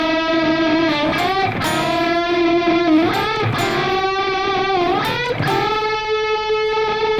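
Electric guitar plays a riff alone, with sustained, bent notes and slides repeating in a short cycle with a slightly varied ending.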